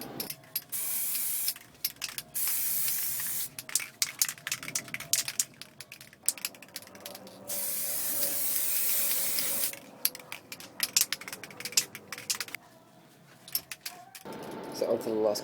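Short and long bursts of an aerosol spray can lay a light tack coat of paint onto a BMW style 44 alloy wheel in a home shed, with hissing blasts separated by brief pauses.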